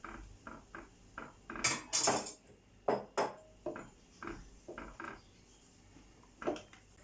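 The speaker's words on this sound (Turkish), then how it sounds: "kaynayana kadar karıştıralım ki arkadaşlar yoğurdumuz kesilmesin" A spoon stirs rice and yogurt soup with butter in a pot, making irregular knocks and scrapes against the metal, some sharper clinks in between, close and moderately quiet with no speech.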